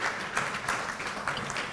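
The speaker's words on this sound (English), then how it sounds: "Give this development a round of applause." An audience at an opening ceremony in St. Kitts gives a brief, fairly faint round of applause, steady clapping filling the short moment without talk.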